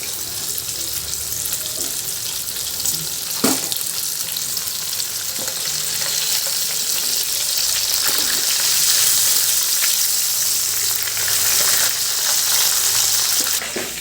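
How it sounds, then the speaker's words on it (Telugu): Fish frying in a pan for a home-style fish fry, a loud steady sizzle and crackle of hot oil filling the whole stretch, with occasional sharper pops and no talk. "చేపల కూర అయిపోయింది, చేపల ఫ్రై చేస్తున్నా"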